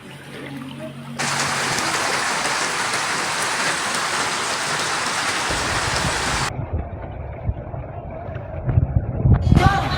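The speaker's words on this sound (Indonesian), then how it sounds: "hujan belum menunjukkan tanda-tanda akan reda" Heavy rain pours during severe flooding in Situbondo, a loud steady hiss of downpour that drops off partway, leaving rushing water and splashing below as vehicles queue through floodwater.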